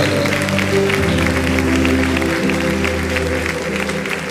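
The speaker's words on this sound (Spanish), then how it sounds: "Den un aplauso a Él esta mañana." A congregation at a church service claps in loud, sustained applause that fills the room, with sustained musical tones underneath.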